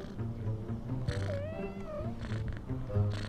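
A cat beside a home swimming pool gives a few drawn-out, wavering meows and yowls over a low background hum, with no one speaking.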